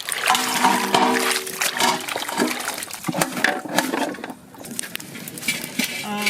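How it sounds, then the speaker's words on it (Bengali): Bottle gourd and potatoes are washed in water, with splashing, sloshing and knocking of the vegetables against a metal vessel, loud and close, in bursts that ease off near the end. "আমরা লাউ আলুটাকে ধুয়ে নেব।"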